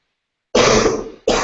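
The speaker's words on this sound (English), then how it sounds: "I got a cough here" A man gives two sharp, loud, close coughs, a longer throaty one followed quickly by a shorter second burst after a brief silence.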